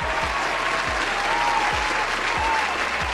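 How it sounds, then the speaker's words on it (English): Steady round of applause from an audience throughout, dense and continuous, with a few low thumps underneath and faint voices in the background. "Give a round of applause for the Ken Ganda YouTube channel."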